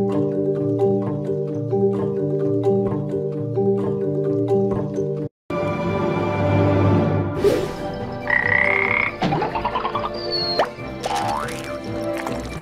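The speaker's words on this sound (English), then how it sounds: "Frogs love water." Frogs croaking in a dense, rhythmic chorus of repeated calls, loud and close, followed by a busier stretch with plops and varied croaks layered together; no talking.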